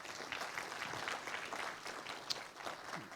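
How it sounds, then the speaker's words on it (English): Audience applause at a literacy awards ceremony, a steady patter of many hands clapping, fairly faint and distant, lasting a few seconds without talking. "Give them another round of applause."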